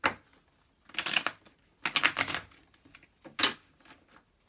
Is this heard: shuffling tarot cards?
yes